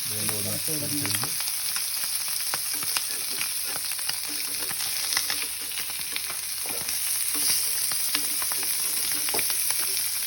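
Fish fried in oil in a pan, both sides nearly done, giving a steady, dense sizzle with a few crackling pops throughout, close up, with no talking.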